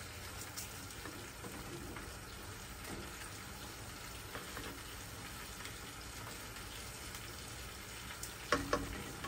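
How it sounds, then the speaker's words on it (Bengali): Tandoori chicken with spices sizzles softly in oil as it is sautéed for butter chicken, a faint steady fry with occasional stirring clatter near the end. "তন্দুরিটাকে একটু কষাই নেব।"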